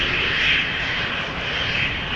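A KLM Embraer 190 jet, about ten years old, sits at the entrance of a runway at Amsterdam Schiphol Airport, its engines giving a loud, steady roar with a high whine and no other sounds.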